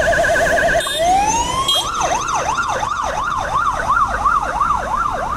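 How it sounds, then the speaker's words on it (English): An ambulance siren wails loudly nearby, shifting from a fast two-tone pattern into a rapid rising-and-falling yelp that repeats steadily. "There's an ambulance now, let's see what it'll do."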